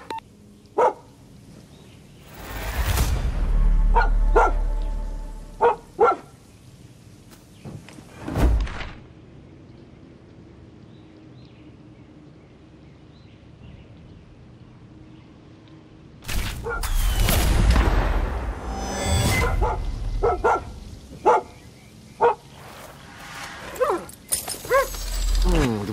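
A dog in the video game Far Cry 6 barks in scattered sharp bursts with whimpering between them, set over game ambience, with louder action noise and a voice talking at times.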